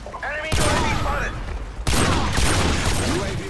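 Video-game gunfire in dense, rapid volleys, two sharp onsets of loud crackling shots close up, with a voice talking over it.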